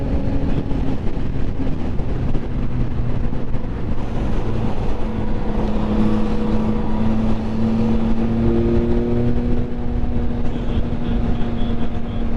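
A 2022 Yamaha MT-09 motorcycle engine pulls steadily in sixth gear at light throttle, a continuous droning hum that slowly rises in pitch over the ride with constant wind rush and no talk.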